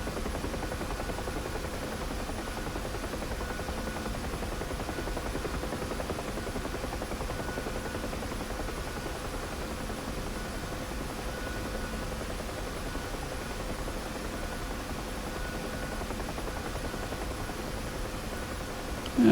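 A Huey helicopter in the DCS flight simulator drones steadily on the Syria map over Incirlik and Adana, a continuous broadband rotor and turbine hum with no speech and no change in level.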